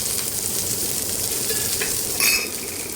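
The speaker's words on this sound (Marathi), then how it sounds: "तेल टाकून पुन्हा आपल्याला व्यवस्थित भाजून घ्यायचं आहे" Onion frying in oil for a village-style egg curry, a steady dense sizzle close up with a brief louder crackle and scrape as the pan is stirred.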